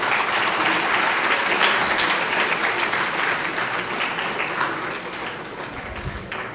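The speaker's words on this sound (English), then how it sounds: "A round of applause, please." An audience applauds loudly at a World Space Week inaugural function, a close, dense burst of clapping that fades gradually over several seconds.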